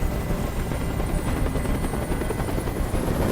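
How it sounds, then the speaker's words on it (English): Steady, dense helicopter rotor drone in the video game Detroit: Become Human, loud and continuous throughout with a deep thumping chop and no pauses. "I can't stand that noise anymore. Tell that helicopter to get out of here."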